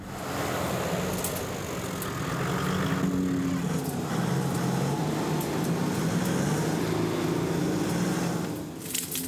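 Dakar Classic rally car on its first run at the bivouac, a continuous engine drone with rising and falling revs under heavy road and wind rumble, heard from inside the car, with a few faint clicks.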